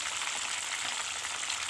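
Tilapia fish frying in oil gives off a soft, continuous crackling sizzle, quiet and even throughout, with no voices over it.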